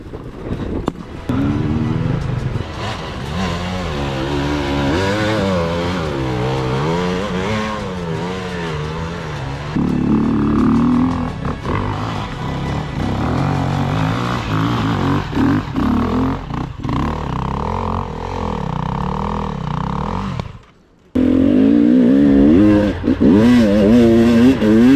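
KTM and Sherco enduro motorcycles rev hard under throttle on an off-road ride, engines rising and falling loudly and close with rattling clatter, nearly continuous, with one brief drop near the end.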